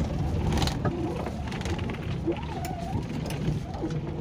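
A 1997 Maruti Suzuki 800 small car driving, steady low engine and road rumble from inside the cabin with faint mechanical rattles and squeaks, no talking.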